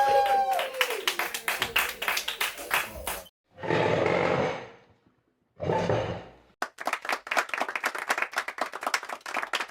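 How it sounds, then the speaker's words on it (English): Applause and cheering from a stand-up comedy audience at the end of an Alter Ego routine: dense clapping with loud whoops, broken by two short bursts of roaring crowd noise and brief pauses, then clapping resumes. "Give yourselves a round of applause"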